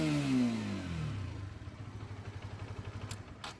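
Honda CBR 125R motorcycle with its stock exhaust revs up close by, then drops back to a steady, fairly quiet idle that thumps in an even rhythm, with no one talking.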